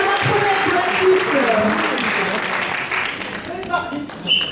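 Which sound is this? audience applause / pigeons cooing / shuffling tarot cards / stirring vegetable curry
audience applause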